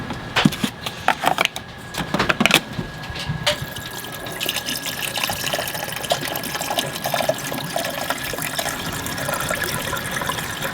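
Water runs into the reservoir of a coffee maker inside an RV, a steady pouring and trickling that lasts throughout, close by, with a few handling knocks and clunks near the start.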